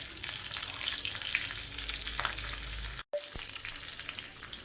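Green chilli slices and curry leaves sizzle in a hot mustard-seed tempering for rava dhokla, a steady crackling fry with a brief cut-out partway through.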